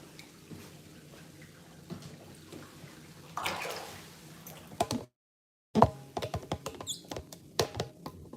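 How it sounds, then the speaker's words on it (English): Water from a foot bath drains away with soft trickling and gurgling, followed by a brief silence, then scattered close splashes, knocks and handling sounds. "they did need a washing, so I'm just gonna let that drain"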